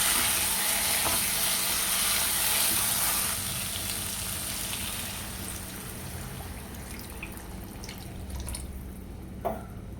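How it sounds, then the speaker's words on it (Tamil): Chicken gravy masala sizzles loudly in a hot pan as water is added. The crackling hiss is dense and continuous at first, then drops to a softer simmering sizzle with a few drips and a knock. "இது கொஞ்சம் கலந்துக்கிட்டு தண்ணி சேர்த்துக்கலாம்."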